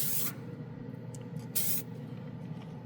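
Short hissing bursts of a Glidden Max-Flex spray paint can spraying onto plastic, one at the start and another about halfway through, with fainter puffs between.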